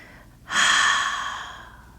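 One long, audible exhale during yoga arm circles. It comes in suddenly and fades out gradually, close to the mic.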